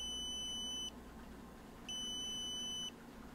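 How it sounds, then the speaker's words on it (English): Two steady high-pitched electronic beeps from an Arduino-driven buzzer, each lasting about a second, separated by a short pause, with a faint background hum. "I'm basically just gonna make it so it just beeps a couple times and stops."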